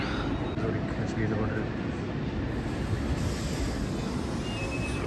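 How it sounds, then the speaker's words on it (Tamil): Steady rumble of a Swiss passenger train in motion, with rolling wheel noise and a thin high whine running throughout. "இது சுவிட்சர்லேண்ட் ட்ரெயின்"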